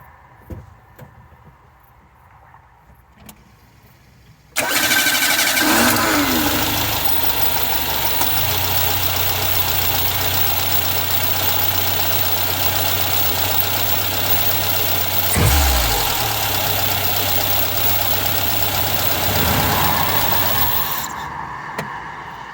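A Citroen BX14 petrol engine cranks and catches after a starter motor replacement, then settles into a loud, steady idle close by, running evenly for about sixteen seconds before a brief surge and shutdown.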